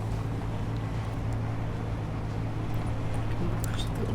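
A rover driven fast across terrain in the game Space Engineers, heading back toward base, gives a steady loud engine-and-rumble drone that holds without break throughout, with no talking.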